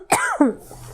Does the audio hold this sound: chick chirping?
no